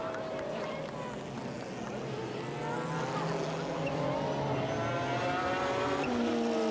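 GT race cars, including a Toyota Supra and a McLaren, roar past in a 1996 Japanese GT championship race, layered engine notes rising and falling in pitch over a constant loud drone while a commentator talks over them.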